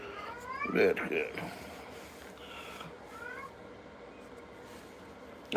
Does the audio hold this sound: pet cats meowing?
yes